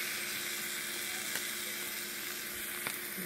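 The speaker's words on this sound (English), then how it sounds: "let my egg cook a little faster" An egg fries in a covered Gotham Steel pan, giving a steady, dense sizzle close by with a couple of faint ticks and no talking.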